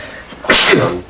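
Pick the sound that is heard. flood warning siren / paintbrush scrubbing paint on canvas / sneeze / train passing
sneeze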